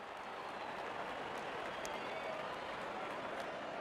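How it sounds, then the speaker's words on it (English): A cricket crowd at an India versus Australia T20 match applauds a batsman reaching fifty, a dense, steady wash of clapping and cheering heard at a distance throughout. "Wonderful 50 and the crowd applauds."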